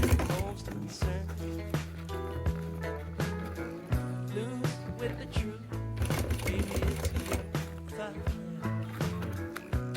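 A sewing machine stitches a seam on a bikepacking frame bag in quick rhythmic runs of needle chatter, stopping and restarting several times, close and clear with some background music.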